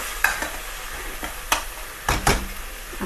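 Spice masala for an egg curry frying in a pan, a low sizzle punctuated by a few sharp spoon scrapes and stirs, close and clear.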